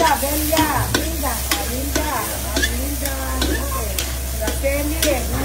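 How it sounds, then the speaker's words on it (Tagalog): Saluyot (jute leaves) stir-fried in a pan, with a steady sizzle and repeated scraping, stirring strokes of a utensil against the pan, loud and close throughout. "Luluto tayo ng saluyot."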